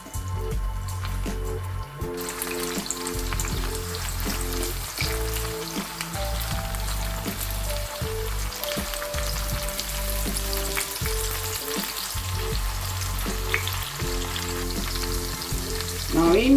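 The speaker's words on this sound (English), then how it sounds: "So we're going to allow these onions to fry away a bit." Onions fry away in a pan for a spinach, mackerel and egg stew, giving a continuous close sizzle and crackle with no talk over it.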